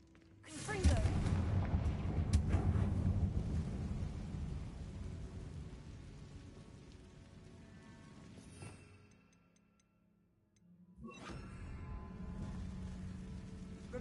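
A Confringo fire spell blasts in Hogwarts Legacy with a sudden loud boom that trails into a long rumbling roar and fades, then another burst of noise follows after a short near-silence.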